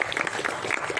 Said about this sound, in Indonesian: ima kasih juga kepada panitia Pak Iswahyudi, tepuk tangan untuk beliau, Pak Engki,